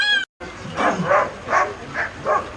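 Husky puppies at a sled dog kennel yip and bark in a string of about five short, high bursts at an uneven pace, close and clear after a brief sharp sound at the start.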